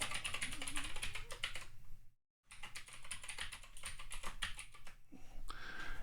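Rapid typing on a computer keyboard while entering a web address: dense, quick key clatter with a brief pause partway through, then steady tapping again, close and fairly quiet.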